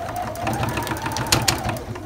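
A sewing machine backstitches a seam on a zipper pouch, its needle running in a fast, steady mechanical whir with small rhythmic clicks, close and continuous.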